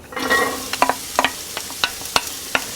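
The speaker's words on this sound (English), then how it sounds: "When the oil is warm, add the mirepoix." Diced mirepoix vegetables hit warm olive oil in a pan with an initial burst of sizzling, followed by steady frying hiss and a series of sharp clicks from stirring, all close and loud.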